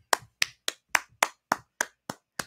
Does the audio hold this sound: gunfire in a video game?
no